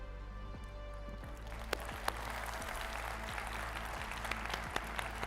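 Audience applause at an esports closing ceremony watch party: steady crowd clapping fills the whole stretch, with a few sharper claps standing out and no talk over it.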